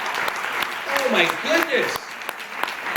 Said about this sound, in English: Can we just give a round of applause just for all the artists and people who draw and paint?